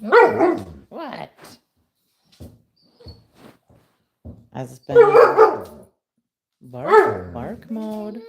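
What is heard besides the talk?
puppy barking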